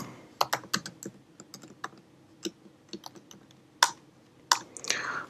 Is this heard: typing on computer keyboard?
yes